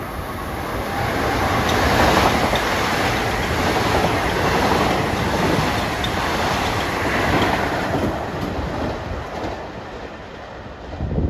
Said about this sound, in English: our last train is 2076, Atlantic Terminal to Ronkonkoma